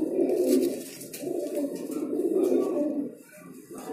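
A female pigeon in a Delhi pigeon shop gives soft, throaty cooing, repeated in low rolling bursts close by, with faint background clatter.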